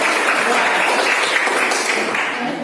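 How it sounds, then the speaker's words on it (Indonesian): A classroom of students applauds a classmate, giving steady, dense, loud clapping that fills the whole moment and eases slightly toward the end. "Beri aplaus juga buat"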